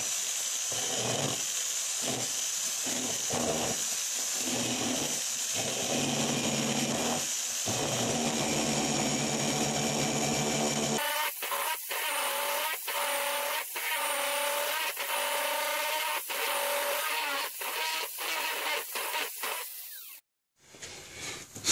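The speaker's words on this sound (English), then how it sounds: "as the bit grabbed the wood, it kind of pulled the bit down a little bit" Drill in a homemade slot mortise jig cutting wood with a spiral bit, a continuous loud whine that shifts into a rougher grinding with repeated bursts as the bit bites, then stops abruptly.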